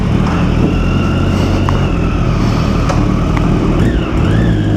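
Geared-down Triumph Daytona 675 race motorcycle riding, a loud steady engine roar with rising and falling tonal whine from close range, continuous and without talk.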